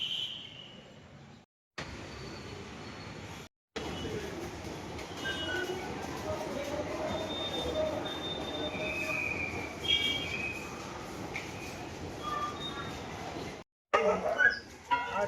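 A train passing close by rumbles steadily while its wheels squeal in high, drawn-out tones, cut by short gaps of silence, with brief voices at the start and end.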